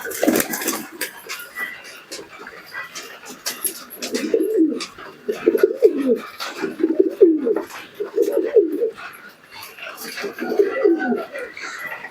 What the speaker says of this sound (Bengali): দেখো সবাই খাবার খেতে ব্যস্ত, প্রতিটি কবুতর খাবার খেতে ব্যস্ত